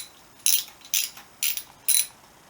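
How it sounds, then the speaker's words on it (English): A 14mm socket on a ratchet tightens the fork pinch bolt on a Honda CB125S motorcycle, four quick crisp clicking bursts evenly spaced, close and clear. "if I use a 14mm socket and I pinch up the fork at this point"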